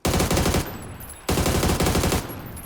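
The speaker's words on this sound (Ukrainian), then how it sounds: "Ще хтось по мені стріляв." Two bursts of rapid automatic gunfire in PUBG, each lasting over half a second, loud and close with brief pauses between.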